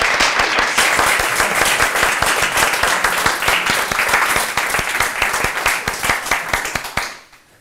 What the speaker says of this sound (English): can we all just do a round of applause for Bea?